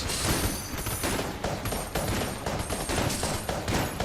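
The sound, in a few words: gunfire from fire weapons in Enter the Gungeon video game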